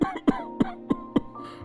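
An elderly man coughing in a cold evening home scene of an animated cartoon, five harsh, evenly spaced coughs close to the listener, with a short rasping vocal tail after the last one.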